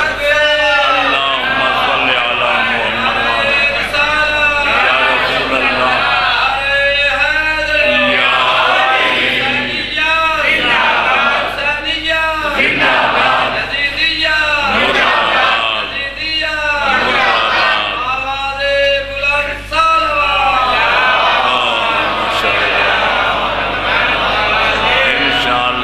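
A crowd at a Shia majlis calls out salawat in unison, a loud, sustained swell of many voices chanting together in rising and falling waves that fill the hall.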